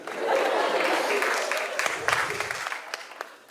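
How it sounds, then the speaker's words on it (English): A comedy club audience applauds in a dense, sustained burst that fades over a few seconds while a voice speaks over it. "Clap with confidence."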